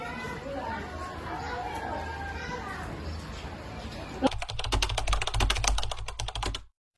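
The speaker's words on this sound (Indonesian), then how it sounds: "Ayo, tolong ketik naskah ini." Keys clatter on a typewriter or keyboard as a document is typed out during a historical drama set at Rengasdengklok, Indonesia. A rapid, close burst of strokes follows background chatter and children's voices.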